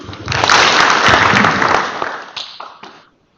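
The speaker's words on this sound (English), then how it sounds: "Can you give yourself a very big hand clap?" A crowd applauding, dense and loud clapping that swells quickly, holds for a couple of seconds, then thins into scattered claps and fades out.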